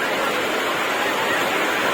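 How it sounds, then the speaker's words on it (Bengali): Heavy rain on a trip to the seaside at Digha, a loud, dense and steady rush of noise that holds the same level throughout, with no talk over it. "অবস্থা, বৃষ্টির অবস্থা দেখো"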